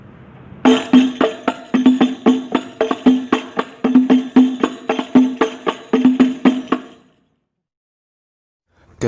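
Banjari habsy frame drums playing the basic patterns together, a dense interlocking rhythm of booming low hits and crisp slaps, close and loud, ending abruptly in silence with one last hit.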